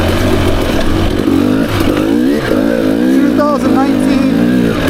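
A 2019 XC-W dirt bike engine runs steadily on a single-track trail, its buzzing drone rising and falling as the throttle shifts, loud and close throughout.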